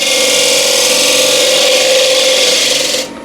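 A spindle gouge cuts a wood blank spinning on a lathe, giving a steady, loud, close rasping whir that holds for about three seconds and then cuts off as the tool lifts away.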